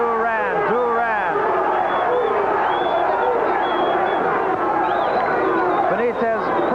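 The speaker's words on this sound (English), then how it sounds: "Crowd on its feet." Boxing arena crowd on its feet at a Wilfred Benitez vs Roberto Duran fight, a dense steady roar of cheering and chanting, with a commentator talking over it throughout.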